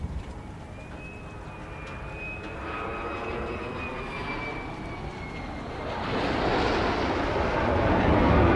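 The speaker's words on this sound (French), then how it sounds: "Des avions, on en a pas mal." A propeller airplane drones overhead above a quiet forest in the Vosges, France, with a steady engine hum that swells louder toward the end as it passes nearer.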